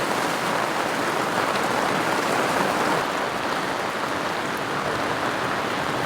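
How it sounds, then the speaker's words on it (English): Heavy rain pouring down onto an awning at a riverbed campsite, a dense, even hiss that stays loud and close throughout with no talking. "it's currently pouring down rain"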